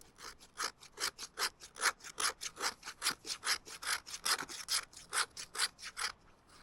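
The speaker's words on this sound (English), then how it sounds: "your knife has serrations and you just grind a little bit of dust on there" A serrated knife scrapes fatwood into fine shavings and dust at an outdoor fire pit, a close, loud, rapid rhythmic rasping of about two dozen strokes in a steady back-and-forth cadence.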